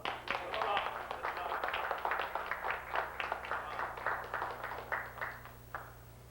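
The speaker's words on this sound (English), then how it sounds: "Let's greet this brother with a hearty hand clap and a hearty Islam." An audience claps by hand to greet a speaker at a Moorish lesson gathering. The applause is dense and sustained, then thins into separate bursts before fading out.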